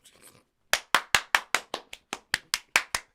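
Twelve sharp hand claps in a steady, even rhythm, loud and close, after a brief murmur of voices.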